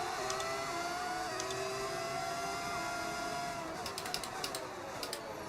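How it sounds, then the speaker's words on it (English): An F1 25 racing car engine drones continuously in the game, a high, smooth whine rising and falling slightly with throttle, with brief clicking ticks near the end and no talk. "The engine sound is amazing."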